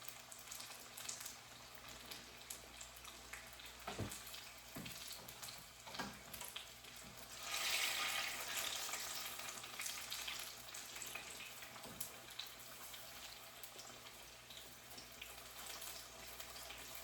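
Jamaican fritters sizzle and crackle steadily in hot oil, close and fairly quiet, with a brighter surge of frying partway through and occasional knocks from a fork or utensil.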